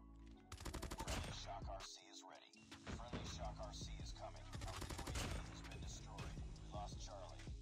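Rapid automatic gunfire in Call of Duty Mobile, loud bursts of close shots with thuds and a brief pause, then more sustained firing, a player talking over the shooting.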